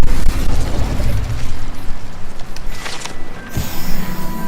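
The Incendio fire spell cast in Hogwarts Legacy: a loud, roaring, crackling burst of flame with booming pops, sustained throughout and close.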